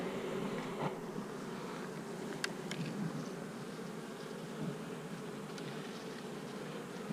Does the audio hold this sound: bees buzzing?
yes